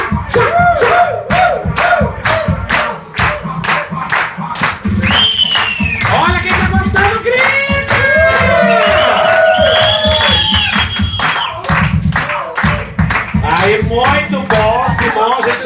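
Stand-up comedy audience in Lisbon at a drag show, cheering, shouting and clapping loudly and continuously, with a host's voice talking over the crowd noise throughout.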